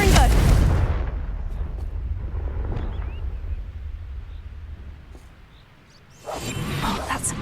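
A Confringo fire spell explosion in the video game Hogwarts Legacy, bursting loudly at the start and fading into a long rumbling roar, followed by a quieter lull and then another loud crackling blast near the end.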